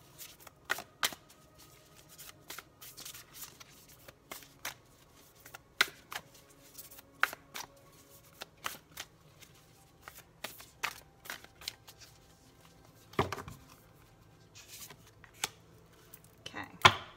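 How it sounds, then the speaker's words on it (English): Tarot cards are shuffled by hand in quiet, irregular bursts of soft riffling and slapping, close to the listener, with short pauses between shuffles and no talking. "They're very hard to shuffle."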